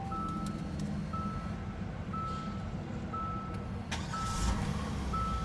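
A carryover 3.3-liter V6 in a 2017 Hyundai Santa Fe idles at an auto show, giving a steady low rumble beneath a repeating high electronic beep that sounds about once a second.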